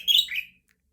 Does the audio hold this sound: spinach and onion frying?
no